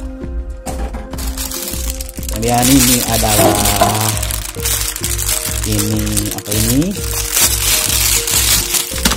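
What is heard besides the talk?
handling styrofoam protective packing foam from a printer box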